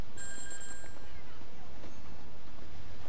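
A phone ringing in the video game Grand Theft Auto V: a bright, electronic ring at the start that fades after about a second, leaving low background noise.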